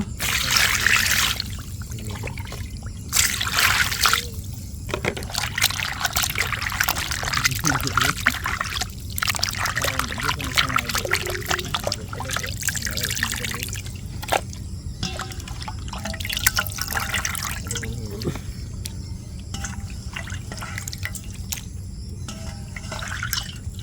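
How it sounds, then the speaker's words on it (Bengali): Chicken meat is washed under running water, with close splashing, trickling and dripping that rises and falls irregularly as the pieces are handled. "আমরা মাংসগুলোকে ধুয়ে নেব"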